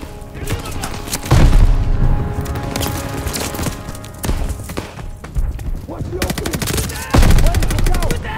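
Call of Duty: Vanguard gameplay on PC with a grenade thrown and gunfire: loud bursts of automatic fire and heavy booming impacts, rapid and close, repeating through the stretch.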